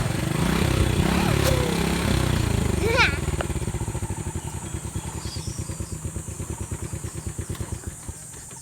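Motorcycle engine being started: loud rough running at first, then a steady, rapidly pulsing idle that carries on near the listener, with some clatter.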